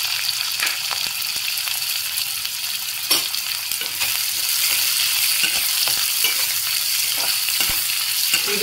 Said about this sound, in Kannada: ಸ್ವಲ್ಪ ಸಾಸಿವೆ ಹಾಕ್ತಾ ಇದ್ದೀನಿ. ಹಸಿಮೆಣಸಿನ್ಕಾಯಿ ಹಾಕ್ತಾ ಇದ್ದೀನಿ, ಮತ್ತು ಈರುಳ್ಳಿ,